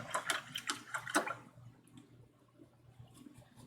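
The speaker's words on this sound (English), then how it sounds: "I'm going to rinse my medium brush out" A medium paint brush swished and tapped in a water container after acrylic painting, a few quick close splashy knocks, then near quiet.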